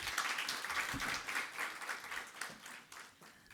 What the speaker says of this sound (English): Another round of applause, colleagues.